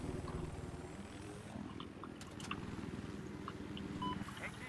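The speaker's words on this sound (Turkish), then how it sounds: "Helikoptere bakıyorum" A helicopter in Battlefield 4 drones steadily in the background, a low rhythmic rotor chop under scattered game effects and faint beeps, distant and fairly quiet.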